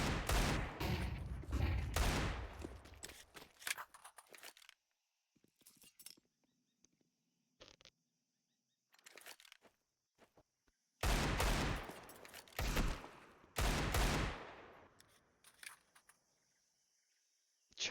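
Bursts of rifle gunfire from a Counter-Strike match, dense volleys early and again near the end, with scattered single shots and quieter gaps between, loud and close.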